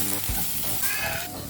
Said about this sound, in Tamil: நெக்ஸ்ட்டு மசாலா நல்லா ஃப்ரை ஆகிடுச்சு.